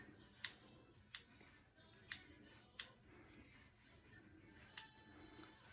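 Scissors trim a men's hair unit in five sharp, close snips spaced about a second apart, each a crisp metallic cut over a quiet background.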